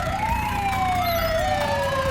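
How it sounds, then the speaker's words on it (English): A toy ambulance's electronic siren wails continuously with a smooth sliding pitch, loud and close, without any speech. "Ambulance."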